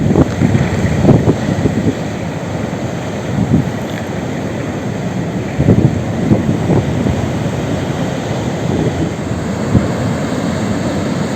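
Wind gusts by the sea on the Côte d'Azur coast, a loud, rough, continuous rumble of buffeting against the microphone with irregular surges.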